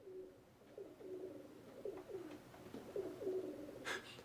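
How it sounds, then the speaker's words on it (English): A pigeon coos outside a window in a series of soft, repeated throaty rolling calls, faint and somewhat distant, with a brief rustle near the end. "There's a pigeon outside my window."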